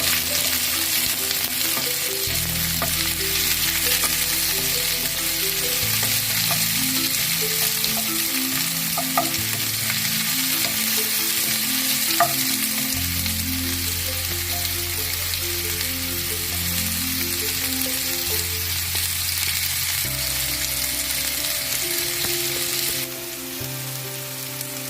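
Cumin, onion, garlic and green chili fry in hot oil, giving a loud, continuous crackling sizzle that holds steady without pause, with occasional faint stirring clinks and no voices.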